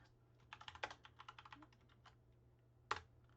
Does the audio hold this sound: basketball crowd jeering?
no